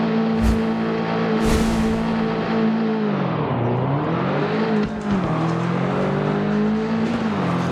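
Race cars in the Driving Zone Online video game roar steadily at high revs, with engine pitch dipping and climbing through gear changes and a few brief tire squeals, loud and continuous throughout.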